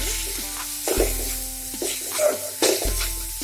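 Spiced lotus stem curry stirred in a pan with red chilli, coriander and cumin powders, garam masala and salt, giving a soft sizzle with scraping strokes under a background music tone.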